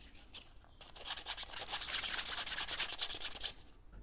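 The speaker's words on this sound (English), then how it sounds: "I'm sanding down all the connections so they will be smooth and it will be easy fit later on." Sandpaper rubbing by hand over the joints of 3D-printed bike frame parts from a Creality Ender 3, a close, steady scratchy rasp in quick repeated strokes that builds and fades over a few seconds with no talking.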